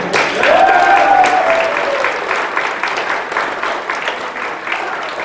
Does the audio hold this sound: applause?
yes